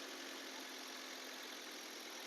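A 2007 Maruti Wagon R idles after starting on the first try, a faint, steady hum with a constant low rumble and no voices.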